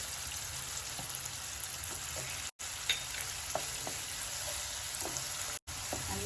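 Onion puree with red chili powder frying in oil for matar paneer, a continuous close crackling sizzle with occasional spoon clinks, no talking.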